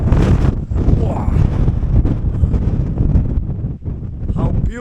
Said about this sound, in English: it's a little bit windy at the top